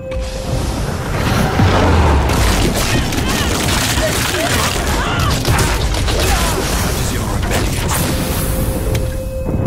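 A dark bomb detonates in the Nosgoth video game, producing a dense, loud, sustained roar of blast and crackling debris that fills the whole span of game audio.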